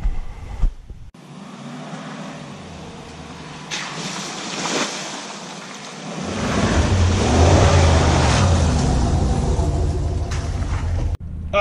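A pickup truck rumbles along a rough, rutted road near Little Otter Lake, New York, with a steady loud engine and tire drone that swells midway, heard from inside the cab with no talk.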